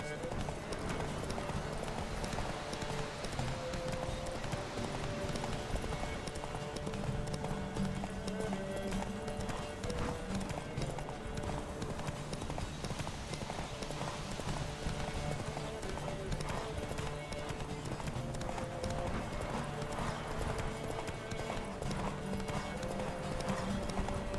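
Steady, rapid horse hoofbeats gallop continuously for the whole stretch in The Witcher 3, with a few voices speaking over the rhythmic clatter.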